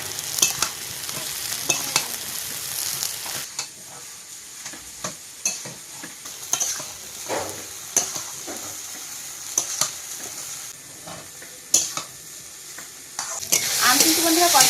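Mango pieces and potatoes seasoned with salt and turmeric are stir-fried in a pan, with a continuous close sizzle broken by repeated scraping strokes of a spatula and a louder burst of sizzling at the end. No one speaks.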